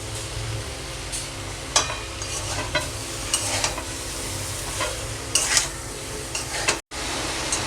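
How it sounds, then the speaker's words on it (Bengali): Fish-head and Malabar spinach curry stir-fried in a pan, a steady close sizzle with scraping spatula strokes at irregular intervals and a brief cutout near the end. "আমি 10 মিনিট কষিয়ে নেব।"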